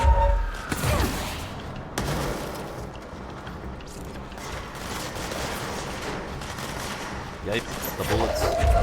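Gunfire in the video game Control, a sharp loud burst at the start followed by a sustained rattle of rapid shots and impacts, with a voice speaking over it.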